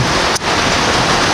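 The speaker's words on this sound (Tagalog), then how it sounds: "Lakas na naman ng ulan." Heavy rain pouring down steadily in a dark evening at a building site, a dense unbroken hiss with one brief dip, close and loud with no voices.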